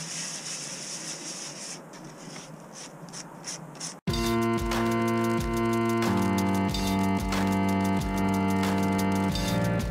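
Rhythmic scratchy rubbing of sanding filler on a 1/14 scale model truck sleeper cab for a few seconds, then loud music takes over and continues to the end.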